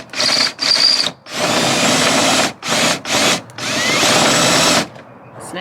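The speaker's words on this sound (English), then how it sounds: "So now you're drilling it out." Power drill drilling out a stuck part during an RV roof vent fan replacement, loud whirring in several bursts of varying length with short pauses between, close up, followed by a faint tail.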